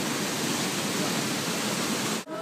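River water rushes down toward an old mill water wheel, a loud, dense, steady roar of flowing water that cuts off abruptly near the end.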